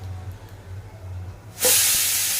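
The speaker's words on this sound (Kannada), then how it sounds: "ಈಗ ಒಗ್ಗರಣೆ ಹಾಕ್ಬಿಡೋಣ" Mustard seeds hit one or two spoons of hot oil in a pan for tempering, setting off a sudden loud, sustained hiss and sizzle after a low humming lead-in.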